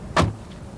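The double-action pop-up headlight mechanism on a Lotus Elan operates with a single short mechanical whir and clunk, brief and moderately loud against a quiet background.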